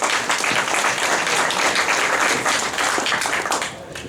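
Audience applause at a Lions Club meeting, steady dense clapping from a room full of people, fairly loud and continuous for several seconds.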